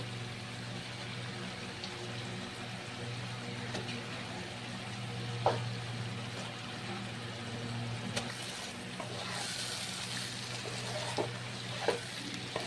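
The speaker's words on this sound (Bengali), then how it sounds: "এখন ম্যারিনেট করে রাখা চিকেনগুলো দিয়ে দেবো" Marinated chicken for restaurant-style chicken chaap hitting a hot pan with spices, giving a steady soft sizzle with a constant low hum underneath and a few light clinks.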